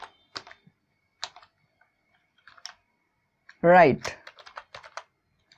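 Keys clatter on a computer keyboard while Arduino code for an RGB LED is typed, scattered clusters of close clicks with pauses between them, interrupted midway by a brief spoken word.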